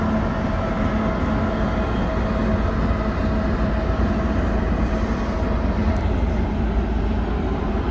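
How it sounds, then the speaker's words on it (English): A CN freight train led by locomotive 3951 rolls through the Pointe-Saint-Charles railyard, a steady loud rumble and wheel roar holding evenly throughout with no voices. "I think that's a CN train."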